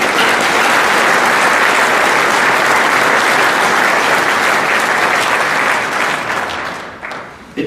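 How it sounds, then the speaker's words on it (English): A crowd at the Mountain America Center grand opening in Idaho breaks into loud, sustained applause, many hands clapping in a thick continuous roar that holds steady before tapering off and thinning out at the very end. "you need to give your own selves, this community, a huge round of applause"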